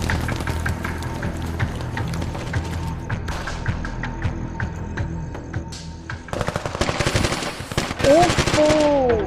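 Rapid bursts of gunfire crackle continuously, loud and close, with heavy automatic fire building toward the end.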